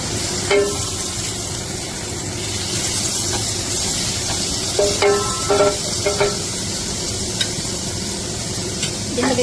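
Garlic frying in a pan for pansit bihon gives a steady sizzling hiss, with spoon scrapes and taps scattered throughout.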